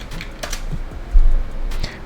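Light clicking keystrokes on a computer keyboard, a few soft taps and one firmer press, close but quiet over a low room hum, with no talking.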